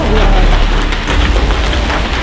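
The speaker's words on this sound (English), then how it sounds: "That, sounds like hail." Hail pelts a Ford Bronco in a thunderstorm, a loud, dense, unbroken clatter drumming on the body and roof for the whole stretch.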